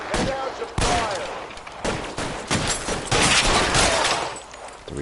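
Loud, dense gunfire in L.A. Noire Remastered, with rapid volleys and bursts of shots packed close together over several seconds amid chaotic shootout noise.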